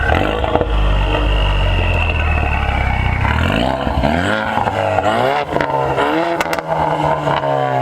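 Tuned Ford Mustang EcoBoost revving close by, its loud exhaust rising and falling through several throttle blips with a turbo whoosh and flutter, sweeping tones shifting as the engine climbs and drops, with no talking.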